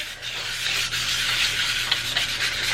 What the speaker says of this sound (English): I will just sand it all around, like the surface of it like this.